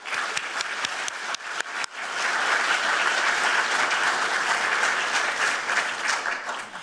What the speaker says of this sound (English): I'd like to give them a round of applause too